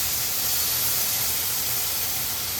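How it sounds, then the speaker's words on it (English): Beef steak frying in a pan, producing a continuous, even sizzle and hiss at moderate level throughout, close by, with no speech. "So now we're gonna fry the beef."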